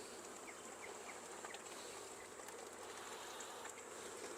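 Honey bees buzzing steadily in an open hive, a dense continuous hum filling the whole stretch at low level, with no voices over it.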